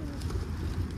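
Soft, low coos of wild pigeons murmur close by, faint and brief, with a hint of rustling background noise.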